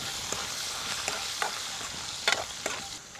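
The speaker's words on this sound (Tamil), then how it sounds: "மிளகாயை பொரிச்ச கையோட அதே எண்ணெயில் கருவாட்டையும் பொரிச்சு." Dried fish frying in the same oil just used for chilies makes a crackling sizzle, with several sharp clatters of stirring in the pan.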